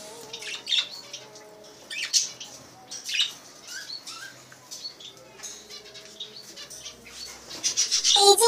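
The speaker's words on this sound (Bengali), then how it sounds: "আমার কাছে মোট 11টি বাজুগর পাখি আছে।" Pet budgerigars in a flock of eleven chirp and squawk in bursts of bright, overlapping calls, close by and moderately loud, rising to a busier chatter toward the end with no talking.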